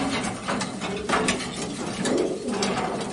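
A racing pigeon coos close by, soft throaty murmuring calls repeated over faint background noise, with no speech.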